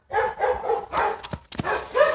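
Several dogs bark in a quick, rough series of yaps close by, with brief gaps between bursts and no talking.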